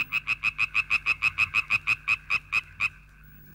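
A tree frog among alder branches gives a fast series of about fifteen bright, evenly spaced croaking calls, loud and close, then falls silent.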